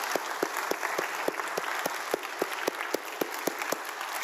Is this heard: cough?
no